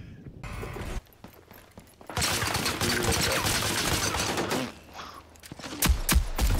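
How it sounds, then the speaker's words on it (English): A bomb dropping and exploding in Battlefield 5: after scattered gunfire and clatter, a loud sustained roaring blast fills a few seconds, then heavy thuds follow near the end. "The bomb has been dropped."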